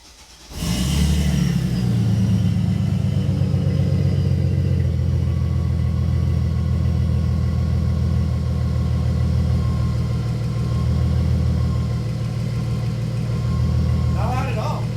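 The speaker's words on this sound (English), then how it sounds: "we're going to kind of give it a little cold start" A Mercedes SLK32 AMG supercharged M112K engine fitted with long tube headers cold-starts in a garage, catching with a quick crank and then settling into a steady, loud, deep idle that rumbles evenly throughout.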